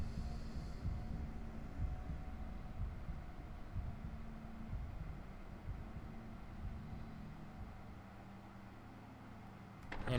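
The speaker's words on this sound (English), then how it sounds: "Wait for the heartbeat to go away and then I'll leave." A low, throbbing heartbeat pulses in the horror video game Bendy and the Ink Machine, steady and muffled under a constant hum, easing slightly before a brief noise at the end.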